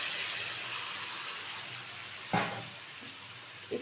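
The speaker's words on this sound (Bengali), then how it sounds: "তেলটা গরম হয়ে গেছে, আর এখন তেলের মধ্যেই ছেড়ে দেবো ম্যারিনেট করা পমফ্রেট মাছ।" Marinated pomfret fish frying in hot mustard oil in a wok, a steady close sizzle with a couple of brief clatters near the end.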